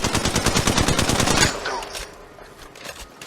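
Rapid automatic gunfire from the mobile battle royale game Apex Legends Mobile, a dense loud burst of shots for about a second and a half, then fading echoes and quieter game ambience.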